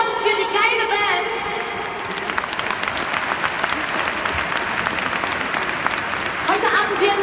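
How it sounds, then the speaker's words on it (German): A big crowd at a Christmas singalong in a Schalke stadium applauds the band in a dense roar of clapping. A voice talks at the start and again near the end, and the clapping fills the middle. "Euer Applaus für die geile Band."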